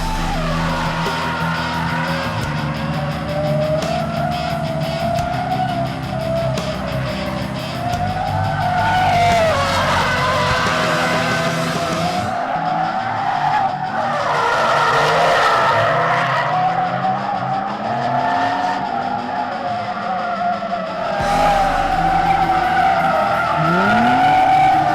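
Drifting cars, a Supra and a 350Z, scream through long tire squeals and skids over roaring, rising and falling engines, loud and close, with occasional crowd whoops.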